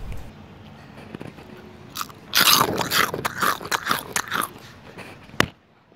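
Crisp homemade fried diamond cut chips crunched between the teeth at close range, with a run of loud brittle bites and chewing crackles lasting about three seconds in a quiet room.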